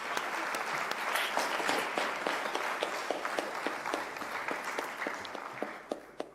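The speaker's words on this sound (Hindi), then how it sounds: "तालियां बजा के स्वागत कीजिए" Audience applause welcoming a woman being honoured by the Madhya Pradesh government in Sagar, a steady patter of many hands clapping at moderate distance, with a few sharper individual claps near the end.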